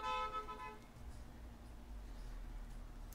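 A car horn toots outside, a short steady honk at the very start that cuts off within a second, leaving a low traffic rumble behind it.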